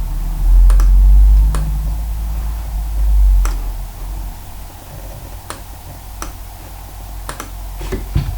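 Scattered, sparse clicks from a computer keyboard with long gaps between keystrokes, heard over a low rumbling hum, with no one talking.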